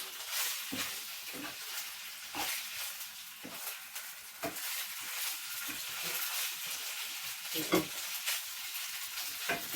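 Pork belly and eggplant stir-fry in a pan with a continuous crackling sizzle, broken by regular scraping stir strokes, close and fairly loud with no speech over it.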